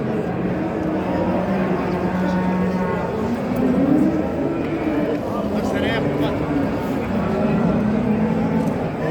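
Cattle at a large livestock market in Çorum low throughout, with drawn-out moos rising above a busy crowd of voices and steady background bustle, people talking close by.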